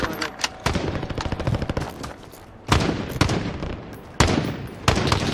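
Gunfire in the video game Call of Duty: Warzone, with bursts of automatic shots and sharp single cracks coming from several directions at varying distances, some close and loud, others fainter in the background.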